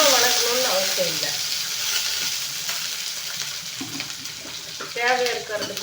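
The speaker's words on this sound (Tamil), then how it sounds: "பச்சை மிளகா போட்ட உடனே வெடிக்கும்." Green chili, shallots and grated coconut splutter in hot oil, a loud continuous crackling sizzle with stirring scrapes, and a brief voice near the end.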